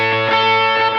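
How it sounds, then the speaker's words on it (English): Electric guitar through a chorus effect patch, a thick sustained chord ringing with a shimmering, wavering tone and a slight change partway through, loud and close. "If we switch to our chorus patch,"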